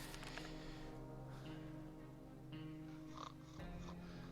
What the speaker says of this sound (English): Why do I hear snoring?